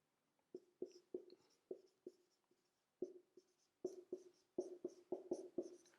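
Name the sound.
writing on a board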